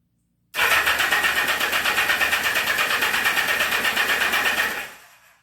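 A 1979 Yamaha XS1100 motorcycle engine cranking without catching, a loud, rapid, even starter churn that runs about four seconds and then winds down to silence.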